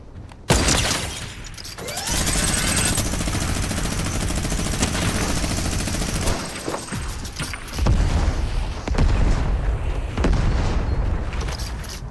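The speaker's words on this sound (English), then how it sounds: "Sending rockets." Rockets blast in a Fortnite Chapter 2 Remix match, a loud, sustained wall of booming explosions and rattling gunfire that keeps going with only short dips.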